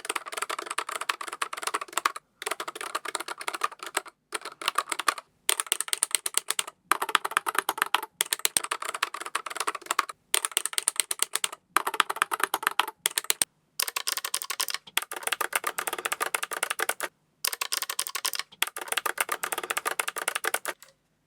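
Rapid typing on a Keychron K3 mechanical keyboard, crisp close clicks in bursts of several seconds separated by short silent pauses.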